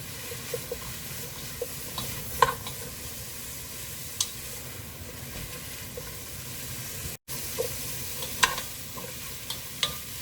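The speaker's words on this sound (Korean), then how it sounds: "고운 고춧가루 한 스푼 넣어줍니다. 이렇게 해서 한번 살짝 볶아주세요." Fine red chili powder and radish stir-fried in a pot for a beef and blood soup: continuous sizzling frying with scattered sharp clicks and scrapes from stirring.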